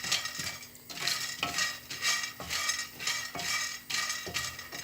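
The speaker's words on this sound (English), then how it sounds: "So I'm just going to just stir this one so that all the oil will be absorbed to the soya chunks." Soya chunks stirred in oil in a pan give repeated scraping, clinking strokes of a utensil against the metal, steady and close, with no voices.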